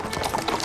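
Horse hooves clip-clopping in an animated horse series, a quick run of close, crisp hoofbeats in a rapid, even rhythm.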